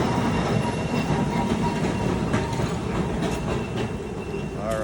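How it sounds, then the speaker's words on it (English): A trolley train passes in Ybor, Tampa, a steady rumbling roll of wheels on rails with faint squeals and clicks, heard outdoors at moderate distance among street noise. "So, got the train coming again, trolley."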